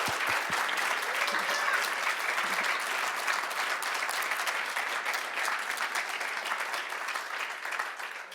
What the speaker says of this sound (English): Can I please invite everyone here for a final round of applause